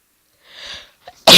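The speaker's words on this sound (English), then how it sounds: "Excuse my sneeze, everyone." A single person sneezes: a soft inhaled build-up followed by a sudden, loud, sharp burst at the end, close and alone.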